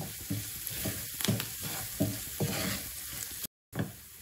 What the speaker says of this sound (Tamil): பூண்டு கொஞ்சம் நல்லா வதங்கணும்.